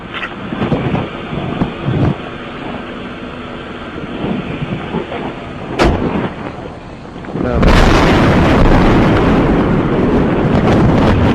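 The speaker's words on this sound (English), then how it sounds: "we just had a huge explosion." Scattered rumbles and thuds, then a sudden loud explosion heard from a police car, giving way to a sustained roaring rush of noise, heavy and close.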